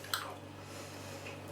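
Someone chewing food near the microphone, a faint soft squish over a low steady hum, with no talking.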